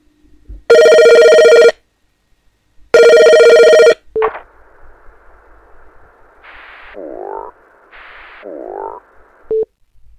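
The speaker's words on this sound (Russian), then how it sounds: "Короче, мне кто-то позвонил." Telephone ringing with an incoming call: two loud, sustained electronic ring bursts, then a quieter tonal ringtone pattern with short chirps that runs on to the end, with no talking.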